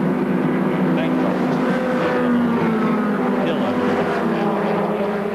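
Formula Ford race cars, a Reynard and a Van Diemen, racing on a circuit in 1984, with a continuous buzzing engine drone under commentary.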